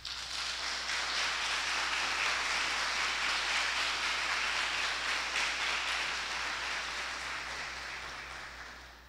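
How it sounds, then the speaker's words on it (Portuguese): A church congregation claps steadily in a dense, even wash of applause that holds for several seconds and then slowly fades, heard at a moderate level without voices on top. "Dê uma salva de palmas para Jesus."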